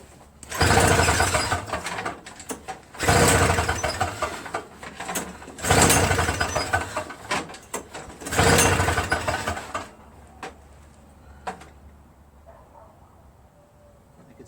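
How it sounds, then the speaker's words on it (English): Toro Snow Commander 7HP R-TEK single-stage snowblower engine being cranked with a pull start, four loud rasping bursts in a row that fail to catch, then quiet. "I'm just going to give it a crank and see what happens"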